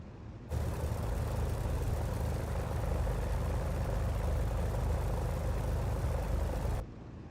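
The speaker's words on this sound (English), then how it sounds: "the powerful engine and large propeller spinning at the front" A TF-51D Mustang's powerful piston engine and large front propeller run in DCS, a steady loud drone that starts abruptly, holds evenly for about six seconds and then cuts off, with no talk.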